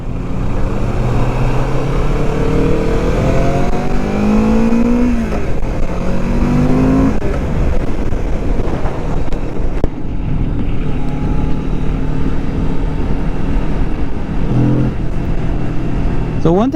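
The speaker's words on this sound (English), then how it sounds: "I feel like bikes are just getting quieter and quieter, you know, like the exhaust" A 2022 Kawasaki Vulcan S motorcycle engine drones and exhaust burbles continuously while riding, with rising and falling pitch through gear changes and steady wind rush throughout, and a voice talks over it.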